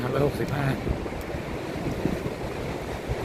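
Sea waves and wind at Hua Hin beach make a steady broadband wash with low rumbling surf, continuous and fairly loud, with some brief voice-like sounds near the start.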